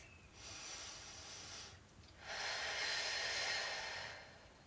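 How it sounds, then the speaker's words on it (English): Slow, deep breathing during a held yoga stretch in a splits class, a soft airy exhale followed by a longer, fuller breath, close and quiet, with no talk. "Good, deep breaths, you guys."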